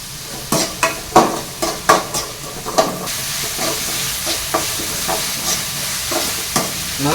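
Onions sautéing with salt in a pan, stirred with sharp scraping strokes in a quick irregular burst over a steady close sizzle that continues after the stirring eases.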